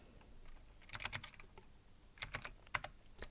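Fingers tap out two quick bursts of keystrokes on a computer keyboard, probably an Amiga, close and quiet, with a short pause between the flurries and no talking.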